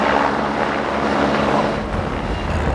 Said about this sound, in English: you can probably hear a helicopter